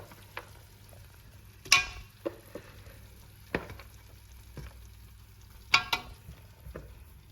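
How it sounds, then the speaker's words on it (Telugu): Ginger and garlic frying in a pan for Hyderabadi-style paya, a quiet bed of sizzling broken by a few sharp spatula scrapes and clacks, close and sparse, no talk. "అవి జింజర్ అండ్ గార్లిక్ వేసినాక మంచిగా జర ఫ్రై అనేది కావాలి"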